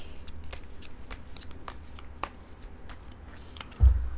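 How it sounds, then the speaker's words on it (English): Tarot cards riffled and shuffled by hand, a soft papery flutter of quick crisp ticks running steadily up close, ending in a louder thump as the deck is cut. "I'm going to cut the deck once I feel it's ready"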